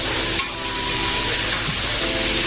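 Chicken coated in rice flour and a little all-purpose flour fries loudly in hot oil, a dense, steady sizzle filling the whole stretch, with one brief clack as a piece is flipped near the start.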